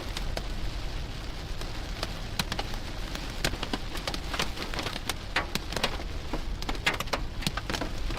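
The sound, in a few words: hail storm falling on roadway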